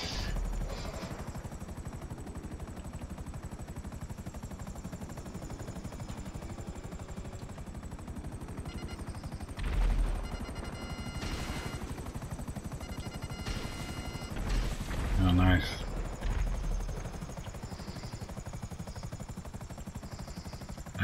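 Savage attack helicopter rotor drone in Grand Theft Auto V runs steadily throughout, with bursts of gunfire and impacts around the middle and a louder cluster near the end.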